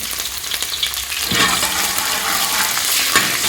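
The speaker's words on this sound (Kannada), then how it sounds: "ಒಂದು ಸಾಧಾರಣ ಒಂದು 250 ml ಅಷ್ಟು ಎಣ್ಣೆ ಬಿಸಿಗೆ ಇಟ್ಕೊಂಡಿದ್ದೇನೆ. ಇದಕ್ಕೆ ಕಟ್ ಮಾಡಿದಂತಹ ಬೆಳ್ಳುಳ್ಳಿ ಹಾಕ್ಕೊಳ್ಳುವ." Cut garlic drops into about 250 ml of hot oil and bursts into a loud, bright sizzle that starts abruptly after a quiet moment and keeps crackling steadily up close.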